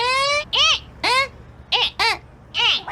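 A voice imitates a car's starter motor, making a series of short, rising, whiny cranking yelps repeated in quick bursts with brief gaps, close and loud with no other sound.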